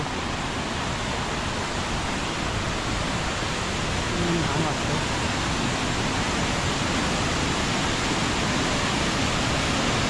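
Devle waterfall in Devrukh roars as a loud, steady broadband rush of falling water throughout, with a brief voice speaking over it.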